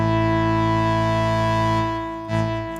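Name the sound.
synthesizer with distortion effect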